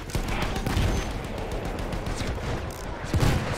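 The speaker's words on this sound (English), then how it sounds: "Oh, mortar, mortar," Mortar fire in the video game Battlefield 1, with a rolling rumble of distant blasts and bursts of gunfire running continuously, heavier thumps near the start and end, and no talk.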